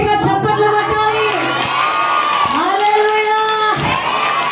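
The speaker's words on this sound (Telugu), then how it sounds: "దేవుడి వాక్యానికి దమ్ముంటే గట్టిగా చప్పట్లు కొట్టాలి" A church congregation erupts in loud cheering, whoops and scattered clapping, many voices shouting together in a sustained roar close by.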